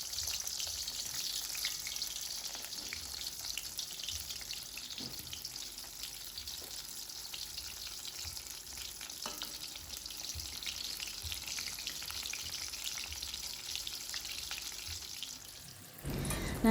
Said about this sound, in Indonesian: Lalu kemudian terongnya kita goreng sampai setengah matang.